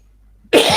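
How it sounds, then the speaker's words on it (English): A single sharp cough bursts out after a near-silent moment, loud and close, ending in a short raspy tail. "I'm just coughing"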